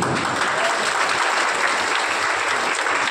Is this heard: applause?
yes